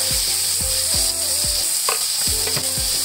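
Tomatoes frying in a pan for a traditional Nepali dish make a loud, steady sizzle, broken by a few soft knocks and scrapes from stirring.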